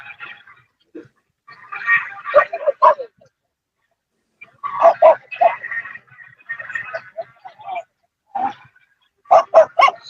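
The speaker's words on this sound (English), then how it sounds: "Oh, somebody's got a dog loose over there." A loose dog barks nearby at an outdoor muscle car show, a few short barks and yelps rising between stretches of conversation, with people talking throughout.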